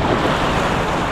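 Sea waves surging and washing onto the beach at Kahului, Maui, Hawaii, a steady, loud, close wash of surf with wind buffeting the microphone and no voices.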